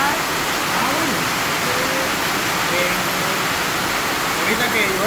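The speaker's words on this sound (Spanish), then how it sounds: "como está cayendo agua" Rain water pouring and splashing in a steady, loud rushing wash during a downpour at a home, with brief voices faintly audible under the noise.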